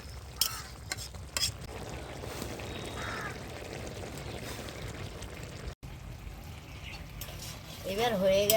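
A prawn and bean curry is stirred in a pan, with steady bubbling and scraping under faint outdoor noise and a couple of utensil knocks, plus a short break in sound near the end.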